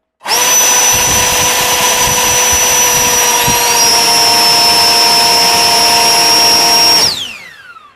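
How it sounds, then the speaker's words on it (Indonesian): Two electric JetFan ducted fans run for a battery discharge test, a loud, steady high-pitched whine with a shifting tone partway, cutting off after about seven seconds and spinning down with a falling pitch. "Sementara jet fan one fan kelihatan baling-balingnya muter."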